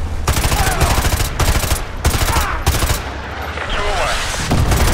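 Heavy gunfire and a Javelin missile launch in Call of Duty Modern Warfare 2, with loud repeated bursts and blasts through the whole stretch and dense battle noise between them.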